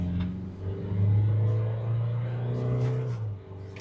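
An Isuzu D-Max pickup with its new diesel engine, rated 163 PS and 400 Nm, revs under throttle, giving a steady, close, loud low rumble that swells and holds for a few seconds before easing slightly.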